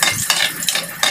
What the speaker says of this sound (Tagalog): higisan na natin yung ating bawang at sibuyas and kamatis